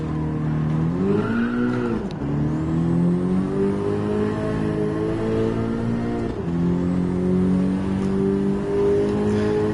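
A car drifting in Gran Turismo 7, its engine revving hard and steadily, dropping and climbing in pitch twice as it slides through corners, with no voices.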